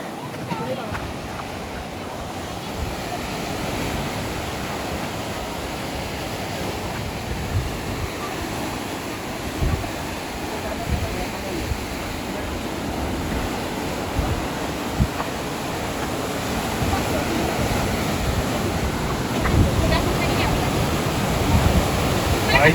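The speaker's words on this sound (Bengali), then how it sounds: "এই জলের আওয়াজটা শুনলে ভীষণ ভালো লাগে।" Sea waves roll in at Sinquerim Beach, Goa, near the Aguda jail, a continuous rushing surf roar that grows louder toward the end, with occasional voices in the background.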